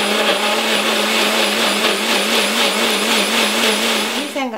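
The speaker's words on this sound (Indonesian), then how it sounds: "Pertama-tama kita mau halusin dulu bawang putihnya, juga cabai merahnya, dan cabai rawitnya, juga terasi ya," An electric blender or chopper grinds garlic, red chilies, bird's eye chilies and shrimp paste for Indonesian urap, a loud, steady motor whine that runs continuously and cuts off abruptly at the end.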